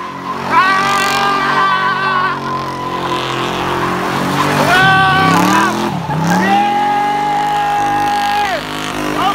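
A car spins its tires in a loud burnout, engine revving hard while rubber squeals in long rising and falling whines that break off and return several times, with crowd noise underneath.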